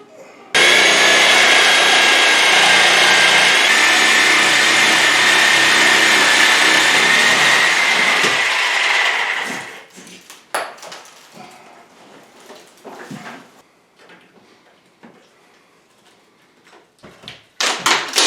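A power saw cuts a 10 3/4 inch hole through abrasive plaster and lath for a Solatube, a loud continuous grinding whine lasting about nine seconds before it stops, followed by scattered clunks and debris handling.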